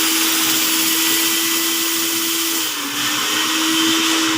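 A steam vacuum extraction cleaner working on fabric, drawing a steady, loud, continuous whine with a roaring airflow hiss and a brief dip in pitch midway.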